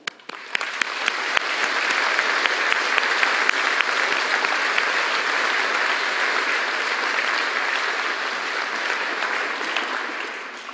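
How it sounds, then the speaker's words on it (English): A graduation audience at Stirling University applauding the graduates, a large, sustained burst of clapping that swells quickly and holds loud and even for about ten seconds, with a few sharp claps standing out at the start. "So I think we owe a very big round of applause to you and to all those who have guided and supported you"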